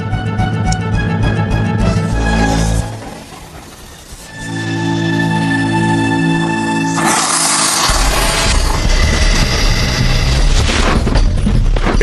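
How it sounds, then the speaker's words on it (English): A rocket-powered aspirator blasts open and inflates an aircraft evacuation slide, producing loud booming rushes of gas with a brief dip before a sustained roaring hiss. "That should create a vacuum effect, sucking in extra air from the surroundings to inflate the slide."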